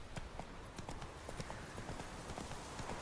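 Roach, the horse in Witcher 3, galloping with a quick, steady clip-clop of hooves that stays moderately close and even throughout.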